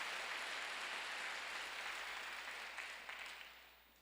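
A church congregation claps together during a worship service, producing a steady wash of applause that is faint and distant, then thins out and fades toward the end. No talking is heard over it.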